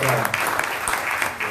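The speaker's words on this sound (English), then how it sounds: "All right, round of applause for Bill." Applause from a small audience at a 1 Million Cups Daytona Beach gathering, a short burst of clapping with some individual claps distinct, briefly overlapped at the start by a voice.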